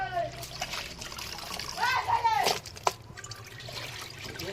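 Meat being rinsed in water outdoors, with splashing and trickling sloshes rising and falling in bursts and a sharp splash near the end, while voices talk over it.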